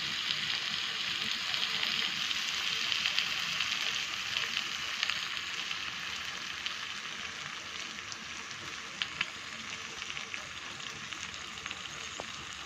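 Restaurant-style kadai chicken masala with green chillies and kasuri methi sizzles in oil as it is sautéed. The frying hiss is steady and close, with faint stirring and no talking.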